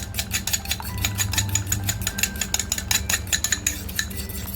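Rapid, steady clinking of a whisk against a bowl as an egg tikka masala mixture with salt and homemade masala is beaten, a loud repeated rhythm over a low engine-like hum.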